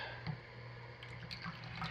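Fragrance oil for a crisp Anjou pear soap pours from a bottle into soap batter, a quiet steady trickle of liquid with soft drips, faint and continuous.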